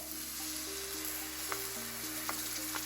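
Fresh tomato puree hits a hot pan of chicken tikka masala with a steady, loud sizzle and frying crackle, with a few faint stirring clinks and no voices.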